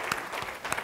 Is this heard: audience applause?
yes